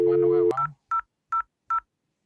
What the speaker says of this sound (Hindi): अब मैं इस नंबर से इसको भी डायल कर सकता हूँ।